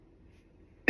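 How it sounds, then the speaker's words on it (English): A single sharp cough bursts out near the end after a stretch of near silence, close and loud, with no speech around it. "I didn't mean to cough"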